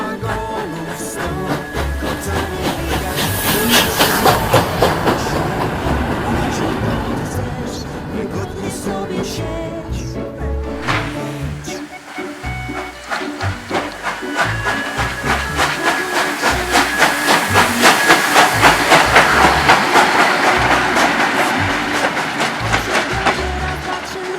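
A steam locomotive, an OL49 class, chugs steadily pulling a train with rhythmic puffing, hissing steam and rolling clatter, loud and continuous throughout.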